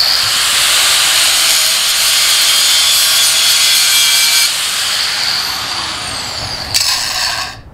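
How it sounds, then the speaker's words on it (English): A metal spatula is ground against rocks, making a loud, steady, close-up scraping hiss that runs without a break and gives way to a sharper rasp near the end. "grind it on some rocks"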